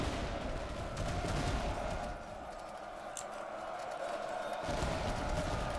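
Massed musket volleys from Napoleonic-era infantry in the strategy game Master of Command, a low rolling crackle of gunfire with a distant battlefield din, fairly steady throughout.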